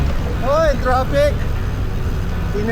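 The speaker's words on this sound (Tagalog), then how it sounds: "Traffic!" Road traffic on a service road beside the NLEX near Mindanao Avenue, a steady close vehicle rumble running throughout while a voice speaks briefly over it.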